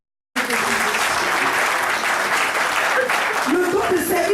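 A church congregation bursts into loud, sustained applause that starts abruptly and carries on steadily, with voices rising under the clapping toward the end.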